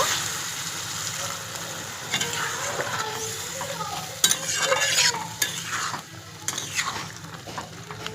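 Ridge gourd and poppy-seed curry cooks on a low flame with a soft, continuous sizzle close by. Scraping stirs and a few sharp utensil clinks sound against the pan.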